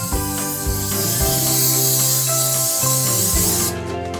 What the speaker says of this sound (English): I'm just going to spray this side with some cooking spray.